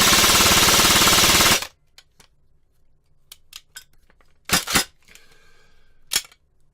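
Airsoft AK-style gun in the G&G style firing fully automatic: a loud, dense, rapid burst for about a second and a half, then quiet with scattered mechanical clicks and two short sharp cracks.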